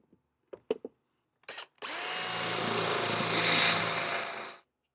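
A few light clicks and taps, then a power drill whirs steadily for about three seconds driving a self-tapping screw into the back of an awning mount on a camper trailer, pitch rising briefly as the screw bites, before stopping.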